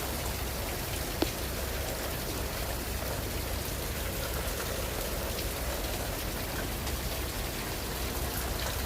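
Steady downpour of heavy rain, a thick continuous wash of drops drumming on surfaces with a faint trickling undertone and one brief sharp tap early on, no speech.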